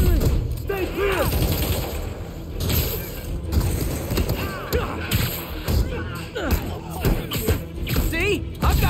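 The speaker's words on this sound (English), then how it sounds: "Timing is impeccable! Firing! Stay clear!" Gunfire in Marvel's Spider-Man on PS5, with bursts and rapid shots layered over mechanical clanks and game noise, while voices shout throughout the action.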